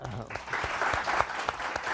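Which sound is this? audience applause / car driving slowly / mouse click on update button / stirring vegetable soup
audience applause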